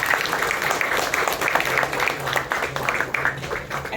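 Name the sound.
audience applause at a trailer launch event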